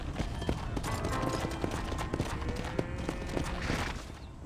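Horse hooves clip-clopping at a walk in the Red Dead Redemption video game, a steady rhythm of sharp hoof strikes alongside faint game ambience.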